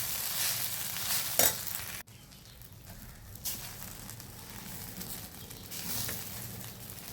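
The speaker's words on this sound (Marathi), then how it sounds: "अशा प्रकारे आपले पोहे आपण हलवून परतून घेतले आहे" Onion poha, flattened rice with onion, is stirred and sautéed in a pan: a soft, fairly faint sizzle broken by scraping stirs and an occasional clink of the spoon.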